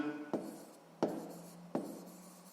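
A pen writes in a school notebook during a sixth-grade maths exercise, with three short, faint scratching strokes at a steady pace, close and quiet.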